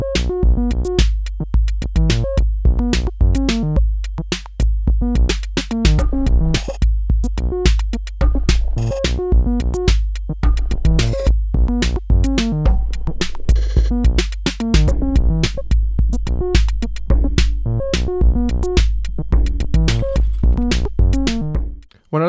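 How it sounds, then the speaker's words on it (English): A synth bass line sequenced by a Tiptop Audio Circadian Rhythms module plays alone, loud and steady, with a fast repeating pattern of short, punchy notes and clicky percussive hits that continue without pause before cutting off at the end. "effectively it's controlling the sound you're hearing, that bass line"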